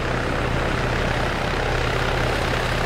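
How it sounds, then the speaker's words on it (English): A friendly military helicopter flies in during a combat video game, its steady engine and rotor drone filling the whole stretch as one loud, unbroken rumble with no breaks. "There's a friendly chopper."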